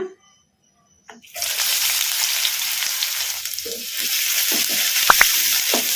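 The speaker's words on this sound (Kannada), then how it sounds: "ಈಗ ಇವನ್ನ ಎಣ್ಣೆಗೆ ಹಾಕಿ ಫ್ರೈ ಮಾಡ್ಕೊಂಬಿಡೋಣ" Finely chopped medium onions drop into hot oil after a brief quiet, bursting into a loud, continuous frying hiss with small crackles and stirring clinks.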